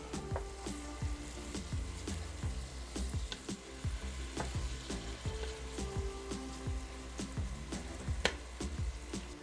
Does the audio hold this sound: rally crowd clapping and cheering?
no